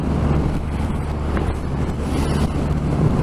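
Continuous heavy wind roar buffeting the microphone while riding a 2020 Triumph Rocket 3 2500 cc motorcycle at speed with no wind protection, loud and unbroken, with engine rumble beneath.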